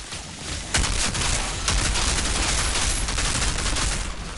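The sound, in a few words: gunfire with corrosive bullets in the video game Outriders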